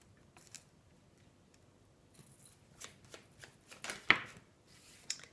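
Tarot cards are drawn and shuffled on a table, with soft scattered rustles and flicks that build into a few quick, close slaps near the end, fairly quiet and with no talking.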